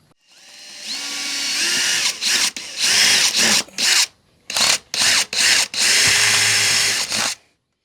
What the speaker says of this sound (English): I'm going to put 4 screws in it.